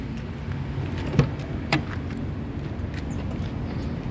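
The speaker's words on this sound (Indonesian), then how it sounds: "Oke, kita coba buka mobil." A 2006 Suzuki APV 1.5 X with manual transmission is unlocked and opened with keys, giving two brief, sharp clicks over steady low background noise.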